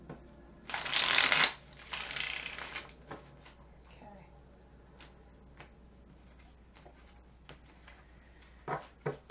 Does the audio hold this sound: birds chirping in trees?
no